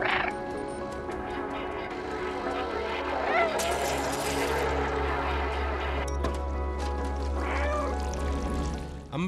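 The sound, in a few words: cat meowing in video game Stray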